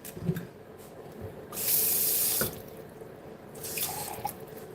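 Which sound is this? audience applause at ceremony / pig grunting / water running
water running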